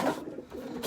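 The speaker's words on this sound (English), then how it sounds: "This is a darker pigeon." A dark-feathered pigeon coos close by, a soft, low, throaty call that swells at the start and again at the end of the short stretch, with no voices.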